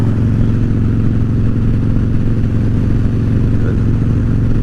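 A motorcycle cruises along with a loud, steady engine drone and constant wind rush, heard from the rider's position.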